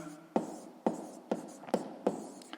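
Handwriting on paper for a maths exercise, a series of about six short distinct scratchy strokes at a quick irregular pace, close and clear with no talking over it.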